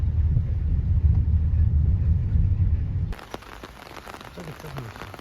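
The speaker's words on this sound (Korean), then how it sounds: "다음날 비가 추적추적 오고 있어요" Steady rain falls the next day on a trip to Jindo, a dense low hiss for about three seconds before the sound shifts to a thinner, brighter patter with scattered drops.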